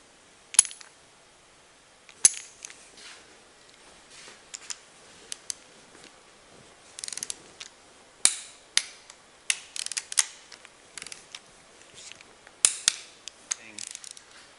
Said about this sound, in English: we're going to go ahead and torque everything to the additional 90 degrees of turn